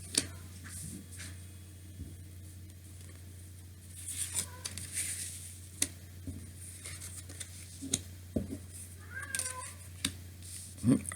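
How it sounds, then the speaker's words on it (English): Artie the cat howls and mews faintly in the background, with a few short, scattered cries that grow a little clearer near the end over a steady low hum. "Artie's howling in the background if you hear cats mewing."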